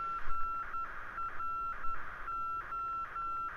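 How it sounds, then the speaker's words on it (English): Morse code ident tone from a DME station heard through the audio panel of a Cirrus SF50 Vision Jet, a thin steady beep broken into dots and dashes over faint radio hiss, repeating evenly with no talking. "go to DME, and then listen to the Morse code for the DME, so we'll listen to that."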